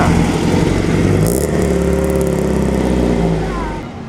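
A Ferrari V12 car engine at the Mille Miglia road race hums loudly and steadily close by, a deep sustained drone that fades slightly at the end.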